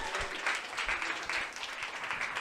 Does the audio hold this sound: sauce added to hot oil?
no